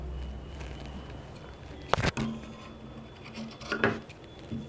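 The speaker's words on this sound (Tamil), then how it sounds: "இப்போ எக்ஸ்ட்ரான கிளாத்தை கட் பண்ணி எடுத்துக்கலாம்." Scissors trimming extra cloth from a stitched blouse hook patti, with two short, crisp snips standing out from quiet rustling handling noise.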